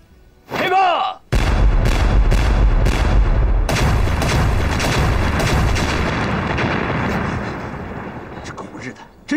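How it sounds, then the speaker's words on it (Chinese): Artillery shelling in a wartime battle scene at a city gate tower: a sharp boom is followed by a long, loud, rumbling roar of explosions that slowly fades over several seconds, with voices briefly heard before the blast. "炮击城楼"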